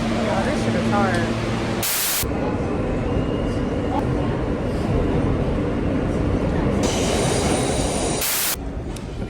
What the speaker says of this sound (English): I made it to my next train, which is the 4 train